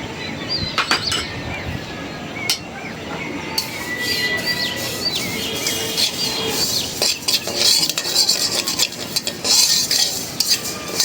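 Nigella seeds (kalijira), washed and cleaned, dry-roasting in a pan without oil, with a spoon stirring and scraping against the metal in scattered clinks and a soft crackle of popping seeds, fairly close and without any talk.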